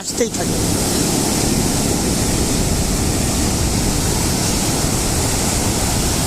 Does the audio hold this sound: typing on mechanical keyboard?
no